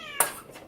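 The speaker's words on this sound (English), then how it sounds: "That's my cat, Remy boy" A single short cat meow, fairly close, over a faint steady background hum.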